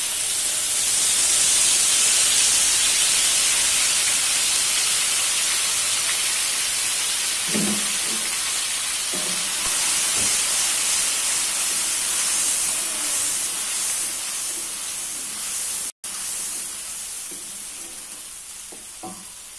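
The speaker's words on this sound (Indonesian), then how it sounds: "Oke, minyak sudah panas, langsung saja kita masukkan bumbu blenderannya ya." Blended chili spice paste fries in hot oil with a loud, steady sizzle and hiss, joined now and then by stirring scrapes, close up and continuous without speech.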